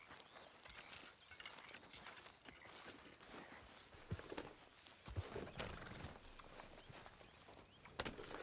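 Horse hooves clip-clopping at a steady walking rhythm while riding near Clemens Point in Red Dead Redemption 2, fairly quiet with a few sharper hoof strikes standing out.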